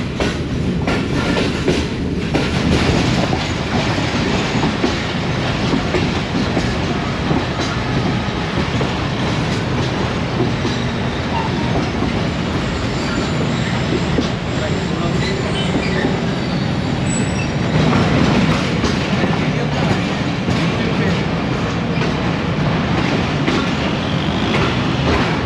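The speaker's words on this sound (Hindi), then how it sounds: "ट्रेन हमारी तकरीबन आधा घंटा तख़ीर का शिकार होने के बाद लाहौर जंक्शन रेलवे स्टेशन पर अप्रोच कर रही" The 102 Down Subak Raftar express, ridden inside an AC Standard coach on the Gujrat to Lahore run, rumbles loudly and steadily with a dense clickety-clack of wheels on rails and occasional faint squeals.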